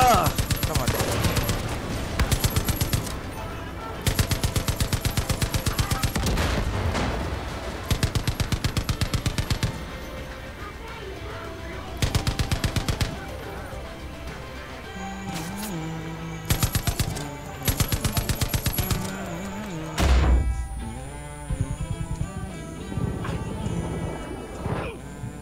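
Machine gun fire in Far Cry 5 comes in repeated loud bursts with short pauses, set against combat music, with someone talking at points.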